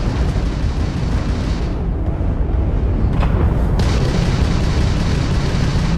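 Crimson Fleet enemy ship weapons firing during space combat in Starfield, a loud continuous rumbling boom with dense blasts and explosive bursts, briefly dipping before surging again.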